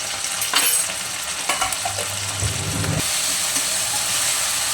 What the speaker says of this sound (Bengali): মশলাটা একটু হালকাভাবে ভেজে নেব।